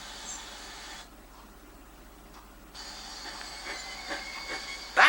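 Steam engines hiss as they pull away, with a steady broadband hiss that drops briefly, then returns louder, with light rail clatter and a sharp burst of steam at the end.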